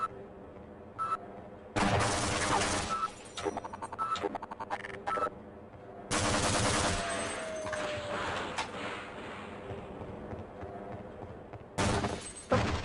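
Gunfire in Half-Life: Insecure: several sharp shots hit a cardboard box, arriving in separate bursts with quiet gaps between them, plus a few beeps.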